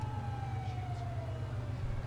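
An ambulance siren in the video game GTA 5 wails with a steady tone over a low rumbling engine, fairly close and without any voices.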